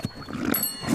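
A pig on a farm gives a couple of short, close, gruff oinks, loud and grunting, with a brief pause between them.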